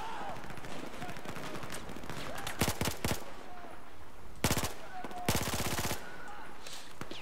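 Rapid bursts of gunfire in Battlefield 4, two sharp volleys of quick repeated shots standing out over a busy, continuous game soundscape, with some voice underneath.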